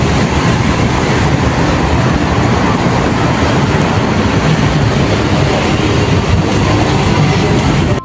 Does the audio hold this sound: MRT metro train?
yes